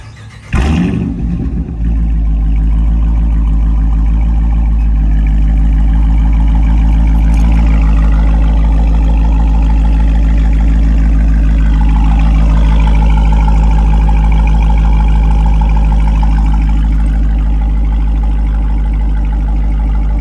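A Dodge Challenger R/T with Borla rear mufflers warm-starting, a loud crank and catch followed by a deep, steady rumbling idle held close and continuous for about eighteen seconds, with a slight shift in tone midway.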